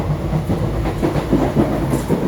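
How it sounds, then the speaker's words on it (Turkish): A long Indian passenger train of around eighteen coaches rolls past close by, a loud, continuous rumble with rhythmic clickety-clack from the wheels over rail joints. "Gördüğünüz gibi Abras'ta trenim başı. Tren epey uzun."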